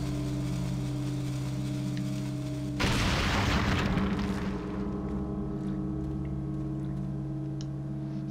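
Hand grenade explosion in Resident Evil 4 on GameCube, a single sudden booming blast that cuts through a steady humming game ambience and decays over about two seconds.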